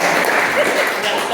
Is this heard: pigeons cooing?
no